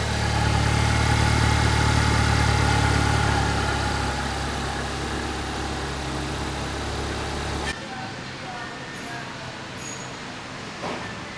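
A 2018 Volkswagen GTI engine idles with a steady low hum, louder at first, then settling into a quieter, even rumble after a sudden change, after a thermostat housing install.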